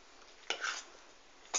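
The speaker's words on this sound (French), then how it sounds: "Vous mélangez bien." Olive oil for a tomato and avocado tartare with shrimp is stirred in a bowl, two short scraping swishes of a utensil, close and quiet with no talk.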